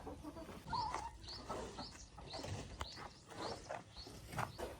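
Chickens cluck and murmur softly nearby while eating bugs out of sawdust, with scattered short calls and faint rustling and pecking sounds.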